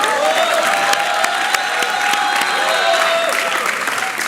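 A studio audience applauds and cheers for Ekta in a steady, dense wash of clapping and whoops that holds at full volume for the whole stretch.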